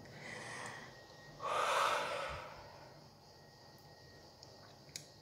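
A sharp, audible intake of breath cut short, as in a blocked-breath exercise: a brief exhale, then a strong gasp lasting about a second, fading into quiet breathing, close and alone.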